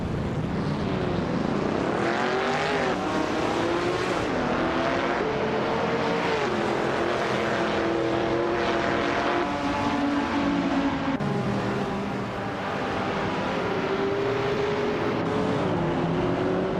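A 1965 Shelby Daytona races in a video game, its engine droning continuously with the pitch climbing and falling through gear changes, loud and close with no talk.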